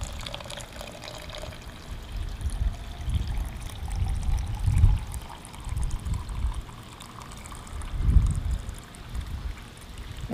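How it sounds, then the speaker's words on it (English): Liquid is poured slowly into a small container holding hot rolled steel to chemically remove mill scale, giving a soft, continuous trickling wash with low rumbling swells and no voices. "So I'm going to pour this slowly so that it doesn't slosh around and all."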